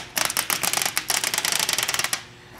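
Knife cutting through honeycomb core, a rapid run of crisp, close ticking clicks as the blade snaps through each cell wall, steady for about two seconds before stopping.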